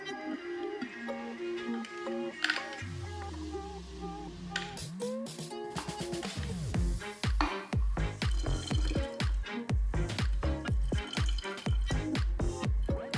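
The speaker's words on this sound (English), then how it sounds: "I add my juice." Green juice poured into a pitcher of ice, with liquid gurgling and dripping, ice clinking, and a rhythmic series of splashy pours and drips growing busier toward the end, close and fairly loud.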